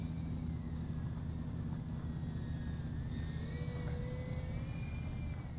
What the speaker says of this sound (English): I like this drone.